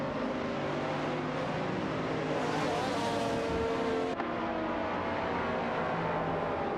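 Race cars, including a Seat Cupra GT, battling for position in an AI racing video game: continuous roaring engines with rising revs and passing sounds, loud and unbroken, with no talk.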